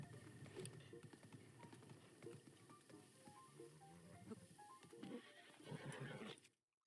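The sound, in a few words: horse music in video game Breath of the Wild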